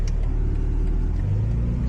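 A 2025 BMW G80 M3 with a straight pipe exhaust rumbles steadily at close range, a deep, continuous engine drone with a slight rise in revs toward the end, with no voices over it.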